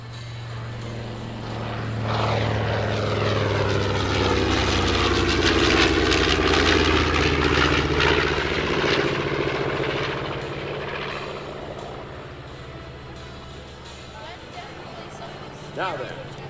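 Twin radial propeller engines of a B-25 Mitchell bomber roar in a loud, sustained flyby at an airshow, swelling as it passes with a sweeping Doppler whine, then fading, with an announcer's voice heard over the public address.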